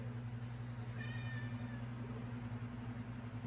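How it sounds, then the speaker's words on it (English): A house cat gives one short meow indoors, fairly close, over a steady low electrical hum, with no talking. "Sorry, that's my cat."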